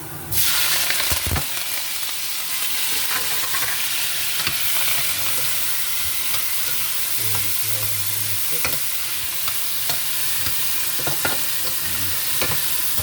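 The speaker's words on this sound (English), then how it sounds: "Let it saute before I add my sausage to it" Vegetables with garden seasoning sizzle and fry steadily in a pan during Jamaican yard-style cooking. A broad, constant hiss is broken by occasional scraping stirs and clinks, with no talking.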